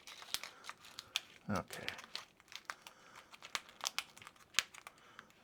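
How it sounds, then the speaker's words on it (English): A plastic bag being pulled open gives off sharp crinkling and tearing crackles in scattered bursts, close by, while a voice speaks briefly. "If I can get into the bag."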